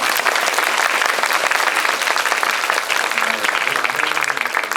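An audience claps at a post-screening guest talk for the Korean film Hunt in a cinema. The applause is loud, dense and sustained throughout, with a few faint voices rising near the end.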